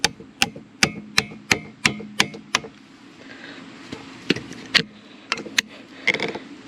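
Hammer blows drive a screwdriver against a lift arm bushing on a New Holland TN70 tractor, a quick series of sharp metallic strikes at first, then sparser, scattered hits, close and loud.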